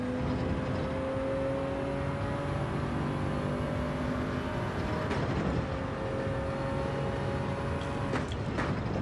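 Toyota Supra GR.3 race car in Gran Turismo 7 holding a steady, loud engine drone with rising harmonic whine, shifting briefly around five and eight seconds, with no talk over it.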